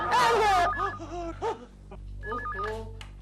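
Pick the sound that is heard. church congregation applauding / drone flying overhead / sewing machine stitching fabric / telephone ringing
telephone ringing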